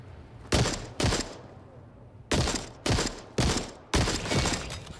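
Pistol fire in the shooter game The Forever Winter comes as seven sharp, loud shots: two quick ones, a pause, then five more at a steady, slightly uneven pace, each with a short decaying tail.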